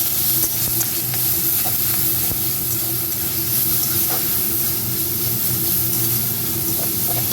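Cumin seeds, ginger-chilli paste and tomato sizzle steadily in a little oil, a loud, close and continuous frying hiss with occasional stirring clicks, and no voices.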